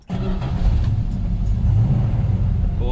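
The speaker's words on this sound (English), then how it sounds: "it just starts and sounds like a brand new Barracuda" A 1970 Plymouth 'Cuda 340 V8 engine cranks and catches with a sharp start, then settles into a deep, loud, lumpy rumbling idle up close.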